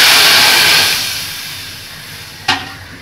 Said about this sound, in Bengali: এবার একটু ফ্রাই প্যানে পানি দিব।